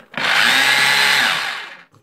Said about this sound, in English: now we need to check the tool, is it's working or not. Okay, the drilling mode is working